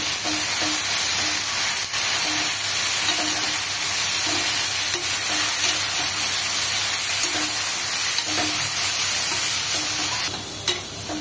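Mint and coriander leaves frying in a pan for mutton biryani, giving a steady close sizzle with occasional stirring scrapes and no talking.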